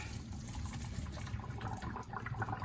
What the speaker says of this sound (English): we're gonna take these and we're gonna drain out the water